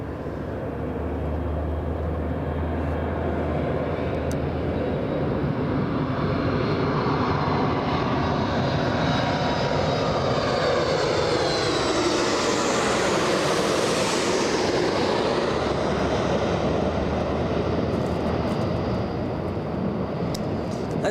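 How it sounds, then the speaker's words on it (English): A Boeing 737 jet landing at Los Angeles International Airport on runway 24 left: a loud, steady roar of jet engines swelling as it passes close, with a whine sweeping up and down, sustained without a break. "landing in just a few seconds, a 737"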